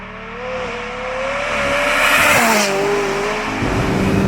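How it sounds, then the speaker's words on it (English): McLaren 675 LT engine revving from inside the car, a rising, raspy racing tone that climbs and falls as the revs change, loud and continuous, with no talking. "And the other thing is the sound of the engine, right?"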